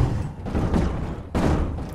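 Explosions in the video game Space Engineers produce heavy, rumbling booms, with one blast followed by a second sharp impact about a second later. Both are loud and dense and are heard without speech.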